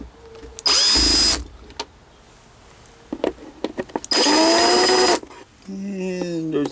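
A power drill backs screws out of the front seats of a Jeep Cherokee XJ, with two loud sustained whirring bursts separated by quieter clicks and handling noise, and a rising motor whine at the end.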